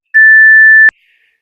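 A workout interval timer gives one loud, steady electronic beep lasting under a second, closed by a sharp click, then silence.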